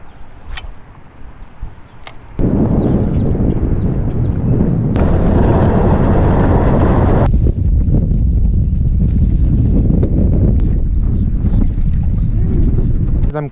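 Strong wind buffets a boat on a Florida lake near Lakeland during spring bass fishing, a steady loud rush of gusts and water noise that thickens after the first couple of seconds and continues throughout.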